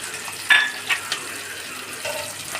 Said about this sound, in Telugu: ఆనియన్స్ ఫ్రై చేసుకోవాలి